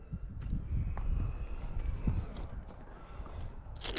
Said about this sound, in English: New horse out on the road. Stopped to let it go by.